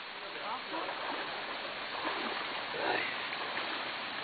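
A rocky stream rushes with a steady, broadband wash of water over stones, continuous and moderately loud throughout, with faint shifting gurgles and no clear voices on top.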